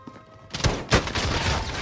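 Shotgun blasts in the battle royale shooter Warzone: two loud, sharp booms roughly a third of a second apart, followed by continuous gunfire and game noise.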